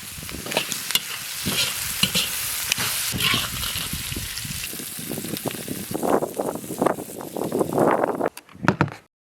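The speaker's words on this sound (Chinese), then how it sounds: "下入大葱叶子，炒出锅" Lamb stir-fried in a wok with salt, chili powder and scallion leaves: a steady loud sizzle under repeated scraping and clanking strokes of a spatula, close up, fading out at the end.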